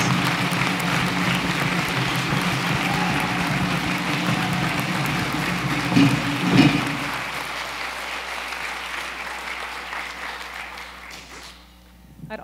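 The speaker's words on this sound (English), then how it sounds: "Let's give them a big round of applause" An audience at the 2013 National Braille Challenge awards ceremony applauds its teachers, a dense steady wash of clapping that swells briefly, then fades away into quiet.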